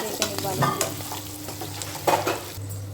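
Paneer cubes fry in a pan with onion and tomato while a spoon stirs them, giving a steady low sizzle broken by scraping and clinking strokes, close up with no talk.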